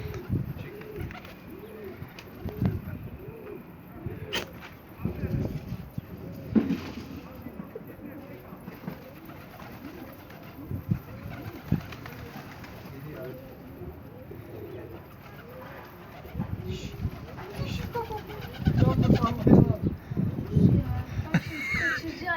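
Repeated soft cooing of pigeons runs through the clip during pigeon catching, with people talking and laughing over it and occasional louder bursts near the end.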